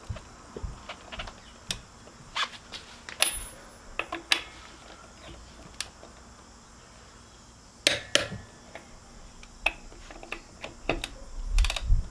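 A socket tool clicks and rattles on the lug nuts of a Jeep Wrangler Rubicon 392 wheel, tightened in a star pattern, with scattered sharp metallic ticks and brief bursts close by against a quiet background, no talk.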